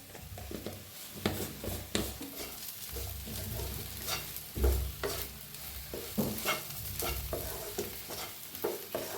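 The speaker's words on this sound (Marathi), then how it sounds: "मी सारखं असं हलवत मिक्स केलेलं आहे" Okra, seasoned with red chili powder and salt, is stirred steadily in a frying pan: repeated close scraping and tossing strokes over a constant, gentle sizzle.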